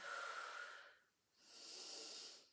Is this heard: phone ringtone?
no